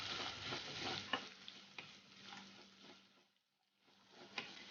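A chicken and rice mixture is stirred in a pan, a steady scraping sizzle with spoon strokes, broken by a brief near-silent pause before the stirring resumes.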